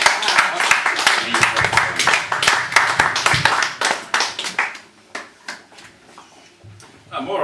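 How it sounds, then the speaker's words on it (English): A live audience bursts into applause, with dense clapping that thins to scattered claps before a final burst, while a voice speaks over it. "More applause, please"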